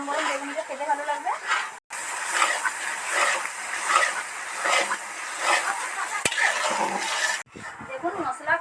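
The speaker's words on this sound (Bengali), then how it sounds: "দেখুন মশলা কষে আমি চিকেনটা দিয়ে দিয়েছি।" Chicken is stirred and fried with spices in a large pot using a big spatula, giving scraping clatter and soft sizzling, with a person talking throughout and a brief gap of silence.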